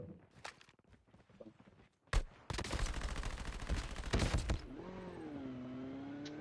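Rapid bursts of game gunfire crackle in a dense volley after scattered clicks, then give way to a wavering mechanical whine.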